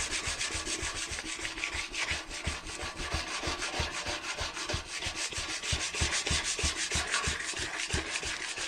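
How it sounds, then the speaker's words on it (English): Coarse sandpaper rubbing over motorcycle paint and lacquer in rapid back-and-forth strokes, a steady scratchy rasp close up with no talk. "That's us starting to get in through the lacquer now, look."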